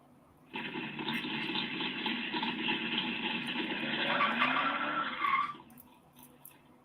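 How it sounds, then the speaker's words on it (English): A sustained tire squeal rings out for about five seconds, fairly loud and steady, then cuts off abruptly into quiet. "I heard tires squealing."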